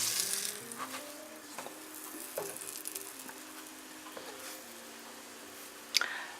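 A potato and apple farl fries in hot butter in a skillet, giving a faint, steady sizzle with a few soft clinks and taps of a utensil, one sharper knock near the end.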